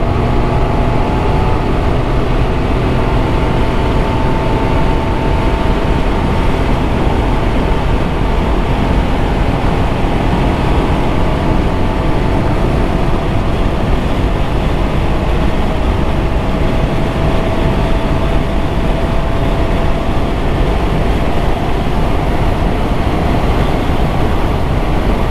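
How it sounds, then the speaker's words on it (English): A Can-Am Ryker Sport three-wheeler accelerating up to 80 mph, its engine revving through the range as a loud, steady drone with heavy wind roar throughout, no voices. "I'm going to stop at zero, and then we're gonna look at the RPM all the way up"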